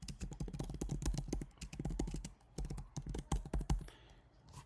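Rapid keystrokes on a computer keyboard as a command is typed, a steady run of close, crisp clicks in uneven bursts with a short pause near the end and no talking.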